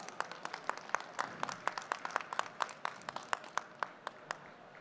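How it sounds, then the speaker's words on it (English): Applause welcoming a speaker at an energy independence event in Gujarat, heard as fairly faint, distinct claps from a small audience, a steady scattering of sharp hits with no talk over them. "let's welcome him with a huge round of applause"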